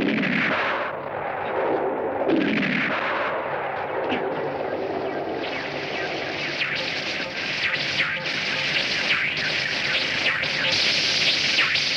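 Gunfire and explosions fill a film battle scene. Loud, dense shots and blasts keep going without a break over a rumbling, chaotic background, with shouting voices mixed in.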